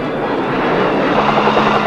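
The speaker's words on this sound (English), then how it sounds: "the close support is continued by helicopter gunships" Military helicopter gunships flying close-support missions make a loud, continuous engine and rotor drone that holds steady throughout, with no talking.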